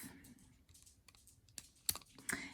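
Scissors cut a length of beading thread for a bracelet, giving a few quiet, sharp snips and clicks that stand alone against a hushed room.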